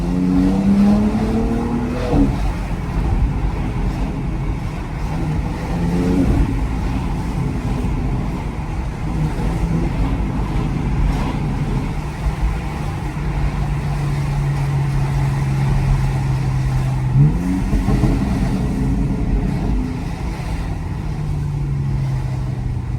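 A BMW X3M with a competition exhaust runs steadily and loudly, its deep engine note rising in several revving swells before settling back to a throaty idle.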